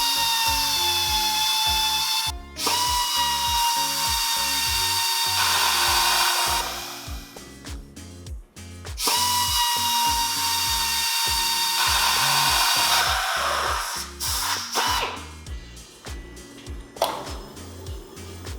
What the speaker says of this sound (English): Now when you drill these holes out,